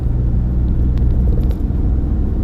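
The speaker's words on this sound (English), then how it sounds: "Right, so fourth gear, going up the hill, nice and steady." A 2021 Mercedes-Benz Sprinter Luton van with a 2.1 314 CDI diesel engine and six-speed gearbox climbs a hill in fourth gear, its engine a steady, loud, low rumble heard from inside the cab.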